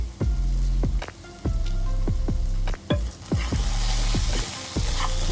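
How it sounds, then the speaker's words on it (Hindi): Okra with onions cooks in a pan under a continuous loud sizzle, while a spatula scrapes and stirs in repeated sharp strokes about once a second. The sound is close and dense, with no talking. "बीच बीच में इस तरह हम चलाते रहेंगे।"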